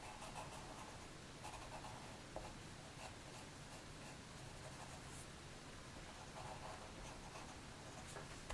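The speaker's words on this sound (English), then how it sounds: "Just pressing harder on my pencil and adding some darker" A graphite pencil shades on paper with firm, heavier pressure, giving a steady soft scratching and rustling that pulses in short strokes, close and quiet throughout.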